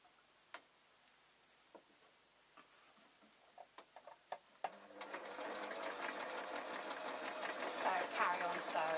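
A home sewing machine stitches a travel pillow, a steady close whir running continuously through the second half after a few sparse clicks and taps, with a voice speaking briefly early on.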